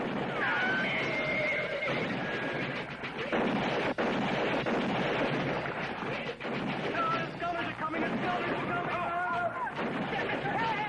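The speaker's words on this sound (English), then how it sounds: "The horses are running away!" Horses whinny repeatedly amid loud, busy commotion, with voices shouting over a rumbling, chaotic background.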